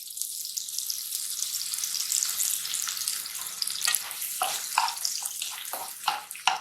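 Finely chopped onion frying in ghee, a bright continuous hiss and crackle up close, with louder spits and bursts of sizzling toward the end and no talk.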